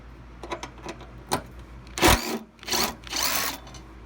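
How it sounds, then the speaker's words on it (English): A socket wrench turning bolts out of a 2002 Honda Accord headlight assembly, with short ratcheting clicks followed by longer bursts of rapid ratchet chatter, close and fairly loud with no talking. "then we're going to remove this bolt right here"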